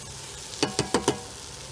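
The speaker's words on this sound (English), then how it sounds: "Now we want to let our mushrooms cook for about 3 to 4 minutes." Mushrooms cook in a pan with a soft, steady sizzle, broken by four quick stirring or scraping knocks in close succession.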